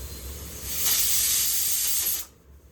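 A pressure cooker with paneer inside lets out a loud, close steam hiss that builds, holds for about a second and a half, then cuts off abruptly into quiet.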